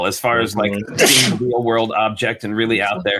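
A single sharp sneeze bursts out mid-conversation, loud and close, with people chatting about a Lego build before and after it.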